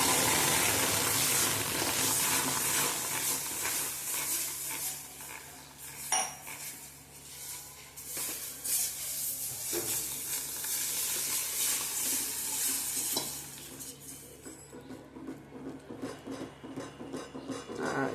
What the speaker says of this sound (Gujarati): હવે આપણે એની અંદર આપણે આ કેરીનો રસ નાખી દઈએ।